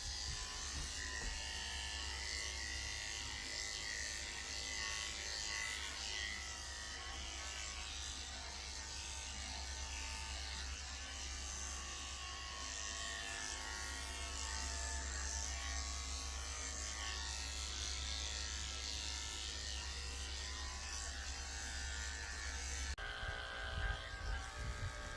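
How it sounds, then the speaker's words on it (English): Electric dog clippers fitted with a 30 blade shave a Yorkie puppy's paw pads, giving a continuous close buzzing hum that holds steady for over twenty seconds before the tone shifts near the end. "I'm shaving the pads of her feet out with a 30 blade."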